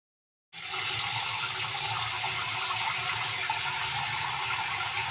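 Shrimp being washed under running water, heard as a tap that suddenly turns on and pours steadily and evenly, close by, with no talking.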